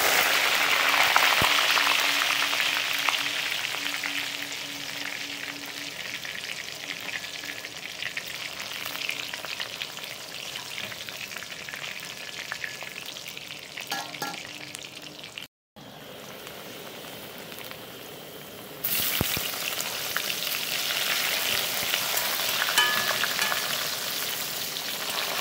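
Eggplant pieces fry in hot oil in a home kitchen, giving a continuous close sizzle that holds steady. It cuts out briefly midway, then resumes slightly louder.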